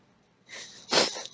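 A single sneeze from a player at a tabletop role-playing game session, starting with a short breathy intake and then a loud burst near the microphone, followed by a brief trailing exhale.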